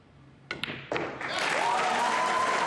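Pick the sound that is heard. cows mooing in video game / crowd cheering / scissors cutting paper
crowd cheering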